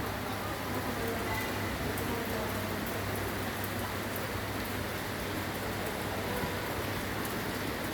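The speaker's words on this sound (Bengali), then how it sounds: "বৃষ্টি মুসুলধারাই হচ্ছে" Heavy rain pours down in a dense, steady hiss, unbroken throughout, with no voices.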